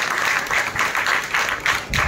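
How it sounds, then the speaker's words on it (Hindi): Audience at an educational conference applauds a speaker coming onstage, with steady, dense clapping from a large crowd filling the room in rolling waves, loud and close, with no talk over it. "अगर तालियां बजती रहें तो अच्छा"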